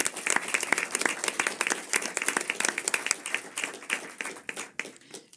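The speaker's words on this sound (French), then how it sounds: "Alors, applaudissez-le." Audience applause at an audio description awards ceremony: dense, steady clapping from a room of people, sustained throughout and gradually thinning toward the end.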